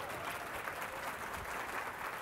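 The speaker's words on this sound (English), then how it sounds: "How about another round of applause for Jackie?" An audience at an economic conference gives a steady, dense round of applause for a speaker, heard from within the room at moderate volume without a break.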